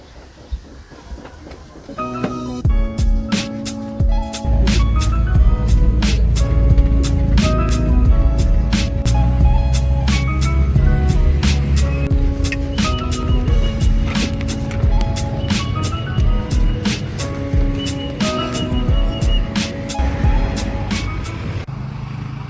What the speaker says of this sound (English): ride in a jeepney